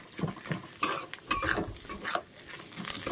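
A spoon stirs mixed vegetables in a pan over lowered gas heat, making intermittent close scraping and clinking strokes over a soft sizzle, with no talking.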